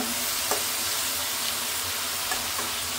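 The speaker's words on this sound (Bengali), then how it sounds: "আর আজকে ঘি দিয়ে রান্না করবো সবজিটা, যে ঘি দিয়ে দিচ্ছি, আমি সব কিছু মিশিয়ে নেই।" Vegetables sizzle steadily in hot ghee for a vegetarian curry, with a few soft scrapes and clacks as the pan is stirred; close and continuous, with no talk.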